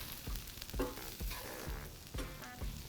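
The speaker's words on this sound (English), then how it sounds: "We're gonna saute this all together for 1 minute." Chili powder and paprika sauteing in a pan for shakshuka, a steady soft sizzle with faint stirring scrapes recurring every half second or so, close and alone with no talk.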